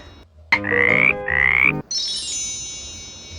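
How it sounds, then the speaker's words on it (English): A frog gives two loud, close croaks in quick succession, followed by a higher ringing tone fading out. "Frog"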